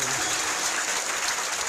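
An audience at a Bhagwat katha in Bangalore claps loudly, a steady dense roar of many hands filling the hall throughout, with faint voices mixed in.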